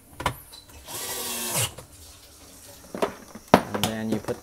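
A screw is driven into a KitchenAid dishwasher during a repair, with short whirring bursts of a powered driver among clanks and rattles, close by, as a person talks between bursts.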